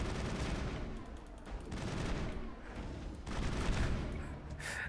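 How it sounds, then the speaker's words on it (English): Sustained assault rifle fire in the video game Mass Effect, dense rapid bursts that form a loud continuous barrage with brief gaps, no talk over it. "Assault rifle, so good."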